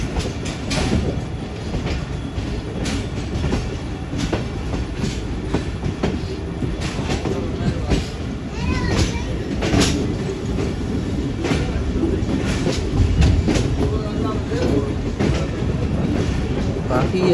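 Hazara Express passenger train running between Lala Musa and Phularwan, a steady rumble with rhythmic clickety-clack of wheels over rail joints, loud and close, with faint voices in the background.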